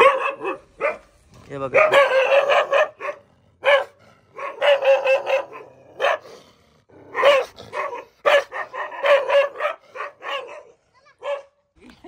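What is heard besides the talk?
dogs barking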